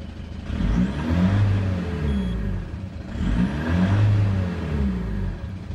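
A car engine with a turbo boost gauge fitted revs up twice as the driver presses the accelerator, each surge rising and falling in a smooth repeated pattern, close and clear without speech.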